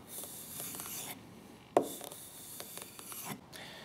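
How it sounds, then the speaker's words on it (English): A bushcraft knife's bevel drawn back along a leather strop gives soft, dry rubbing strokes, quiet and close, with one sharper scrape in the middle and no voices. "apply the knife bevel onto the leather strop and pull it back several times on each side"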